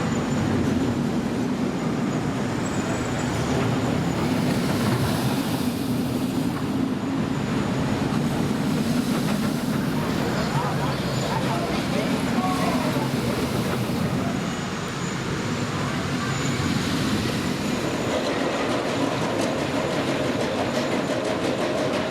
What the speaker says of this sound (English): I'm sure I'll have another train coming round in just a second as well